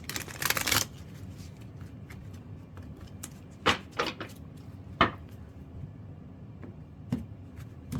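Tarot cards shuffled by hand at a reading table, a burst of riffling followed by several soft, separate taps and slides, close and quiet with no talking.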